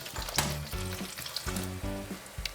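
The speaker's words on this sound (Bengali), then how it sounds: "বেগুনটা লাল লাল করে ভেজে নিয়েছি এর মধ্যে আমি এখন দিয়ে দেব কিছু কারি পাতা ফোড়ন" Eggplant frying in hot oil over a high flame, a loud steady sizzle broken by rhythmic stirring scrapes, close up and with no talk.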